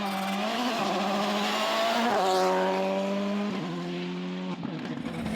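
A Volkswagen Polo rally car at the Rallye Van Haspengouw drives loud and near, its engine rising and falling through gear changes with no voices over it.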